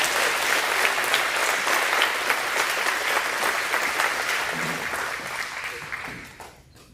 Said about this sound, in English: let's give our baseball winners one more round of applause